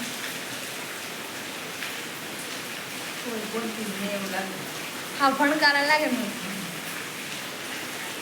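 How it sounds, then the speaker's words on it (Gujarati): Steady heavy rain falls throughout as a constant wash of broadband hiss at a village home, while people talk over it in the middle and latter part. "અત્યારે કેટલો વરસાદ આવે"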